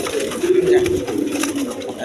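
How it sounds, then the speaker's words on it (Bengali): Lahori pigeons, a U-shaped male and female pair kept for sale, coo in low steady murmurs close by, with faint background chatter and bustle. "এইখানে এক পের লাহোরি কবুতর আছে"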